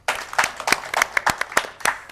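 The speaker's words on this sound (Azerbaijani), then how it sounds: "Bir alqışlar da özünüz üçün gəlsin." Studio audience in a television talk show breaking into applause, a dense patter of hand claps with sharp individual claps standing out, fairly close and steady for about two seconds.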